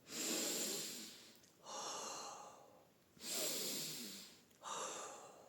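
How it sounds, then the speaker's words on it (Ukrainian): Deep breaths drawn in through the nose and let out through the mouth in slow, warm exhales, as if warming cold glass; two close, steady in-out cycles with no talking. "зробіть глибокий вдих носом і видих ротом але видихаєте ротом так, ніби хочете зігріти диханням холодне скло"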